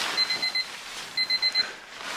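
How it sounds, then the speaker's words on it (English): An alarm clock beeps in short rapid bursts, two quick groups of electronic pips separated by a pause. The beeping is close and fairly loud in a quiet room. "half past 3 goes the alarm"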